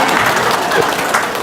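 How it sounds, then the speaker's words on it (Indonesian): Dense audience applause at a gathering, a steady wash of many hands clapping close and loud throughout a brief moment. "Tepuk tangan."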